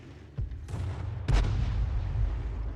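A Hummel self-propelled artillery gun fires in a video game, a deep booming blast followed by a second heavier report with a rolling low rumble trailing off.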